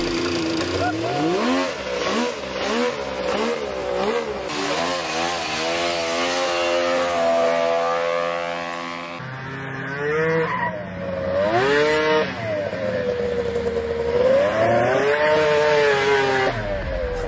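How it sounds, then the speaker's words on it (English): A Mazda Miata powered by a snowmobile engine revs hard, its buzzy, rising and falling engine note sweeping up and down through repeated throttle bursts and gear changes, loud and close throughout. "here is a Miata that is powered by a snowmobile engine"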